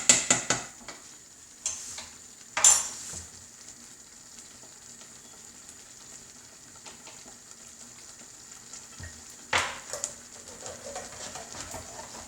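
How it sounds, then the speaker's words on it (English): Chilli simmering in a pot at home, a low steady sizzle broken by a few sharp knocks and scrapes of stirring near the start and again toward the end, with no voices. "leave it to cook, stirring occasionally"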